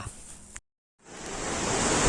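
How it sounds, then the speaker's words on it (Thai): Khlong Lan waterfall in Kamphaeng Phet, Thailand: steady broadband rushing water, briefly cut to silence before the roar returns and swells louder and closer, with no voices. "ที่นี่น้ำตกของรานครับผม"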